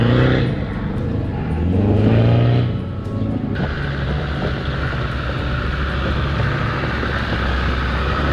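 A Land Rover Defender four-wheel drive works off-road in the French Alps near Abondance, its engine droning steadily with a rising surge partway through, wrapped in wind rumble on the microphone and no talking.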